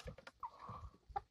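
Chickens in a backyard flock make a few soft clucks and a drawn-out squawk, with short sharp calls near the end, close by and fairly quiet.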